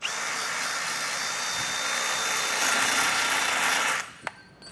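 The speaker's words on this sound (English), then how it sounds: "I'm going to go ahead and ream these out" A power tool reams out a bumper bracket on a 2023 Jeep Gladiator during a base plate installation, giving a loud, steady high-pitched grinding whir up close for about four seconds before stopping with a sharp clack, and no talk.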